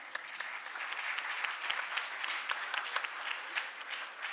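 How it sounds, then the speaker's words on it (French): Audience at a panel discussion on One Health innovation clapping for a city representative, a fairly soft but even patter of many hands with some sharper individual claps standing out, continuing throughout. "Pour la ville de Villeurbanne, ouais, vous pouvez applaudir."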